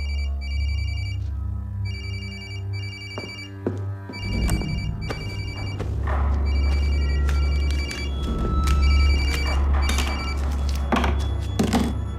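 A phone rings with repeated electronic tones, loud and close, joined partway through by thumps and clatter of movement.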